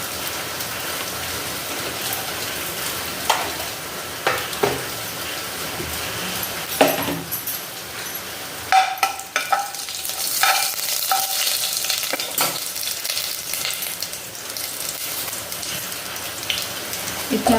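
Whole spices, star anise, cardamom and cinnamon pieces, sizzle in hot oil for a village-style country chicken curry: a continuous close crackle with irregular stirring knocks and scrapes that grow busier and louder in the second half.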